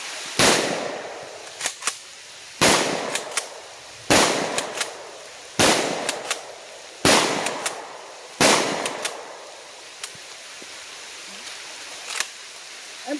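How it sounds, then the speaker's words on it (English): Six loud, sharp blasts from a cheap Fed Arms pump-action 20 gauge shotgun fired outdoors in the rain, spaced a second or two apart, each followed by a brief ringing tail and mechanical clicks of the pump between shots. "Cheap pump 20 gauge shotgun by Fed Arms."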